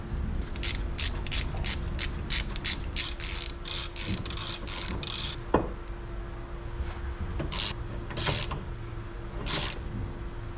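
A wrench ratcheting while working on a 1985 Subaru Brumby: rapid bursts of close, crisp clicking, followed by a single knock and a few more scattered ratchet bursts.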